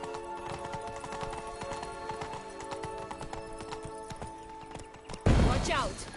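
A horse gallops in The Witcher 3: Wild Hunt, its hoofbeats clip-clopping in a quick, steady rhythm beneath layered game sound, then a loud burst of noise near the end.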